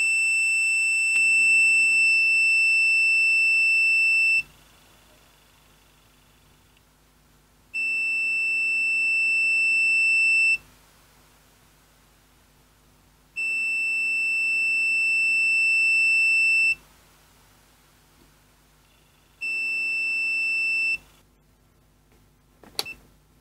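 Digital multimeter on continuity test, giving four sustained high-pitched beeps of about three to four seconds each, separated by short silent gaps, clear and close with no talking.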